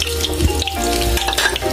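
Garlic sizzles and fries in a hot pan while white grubs are being cooked, a steady crackling hiss close by with a few louder spits and stirring clatters, and no talking.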